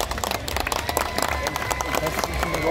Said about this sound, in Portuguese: Senhoras e senhores, uma salva de palmas da área 42 da Vista.